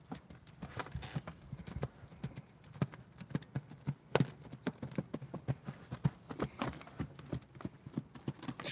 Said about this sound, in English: That's a nice trot.